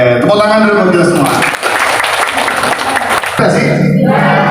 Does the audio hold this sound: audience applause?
yes